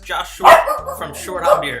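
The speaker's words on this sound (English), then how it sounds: "That's my dog" A dog barks a few times nearby during a craft beer podcast introduction, its sharp yips overlapping someone talking close to the microphone.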